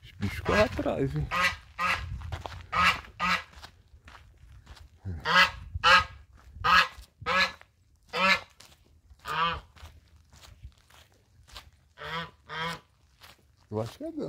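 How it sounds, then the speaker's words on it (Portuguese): Repeated loud honks from a goose on a countryside path in inland Brazil come in steady, closely spaced bursts, with people talking now and then. "O ganso."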